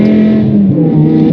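A BMW M5 E61 Touring's V10 engine revving hard, its steady droning pitch dipping briefly through a gear change before climbing again, loud and close with no voices.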